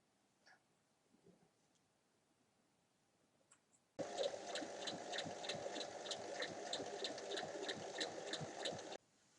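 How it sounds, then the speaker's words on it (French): Sewing machine stitching the sides of a square cushion cover, starting abruptly after quiet and running at a steady fast rhythmic whir for about five seconds before stopping. "Endroit contre endroit, on vient piquer les côtés l'un après l'autre."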